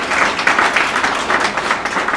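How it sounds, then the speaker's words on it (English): Wedding guests applaud a speech at a reception, a steady burst of many hands clapping close by that lasts a couple of seconds without a clear break. "I did say pause for applause, so that's good, thank you."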